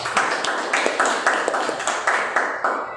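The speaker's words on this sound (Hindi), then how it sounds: "वर्शिप टीम के लिए ताली बजाए और उनको प्रोत्साहित करें" A church congregation at a midweek service claps for the worship team, a steady round of hand claps with rhythmic bursts that carries on throughout and fades at the end.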